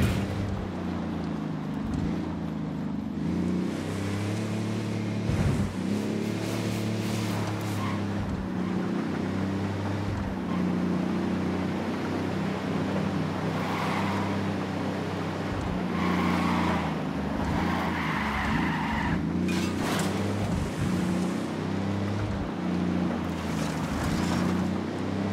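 In Ghost Recon Wildlands, a car's engine hums steadily for a long stretch of driving, with the motor's pitch rising and falling as it moves. Wind and rushing noise run underneath, and there are occasional bumps.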